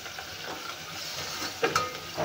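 Crushed garlic sizzles steadily in hot oil in a pan while cooking leftover rice and sambar, a continuous close frying hiss with a few louder crackles near the end.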